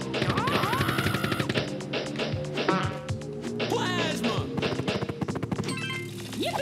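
Earthworm Jim HD plasma gun firing regular ammo, rapid blaster shots mixed with cartoonish game effects and music while a player talks excitedly over them.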